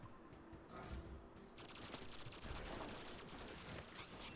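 Enemy turrets in Warframe firing in rapid, sustained bursts, a dense crackling barrage that fills the whole stretch at steady loudness and grows busier partway through, with no talking.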